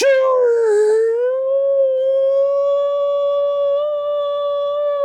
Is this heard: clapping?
no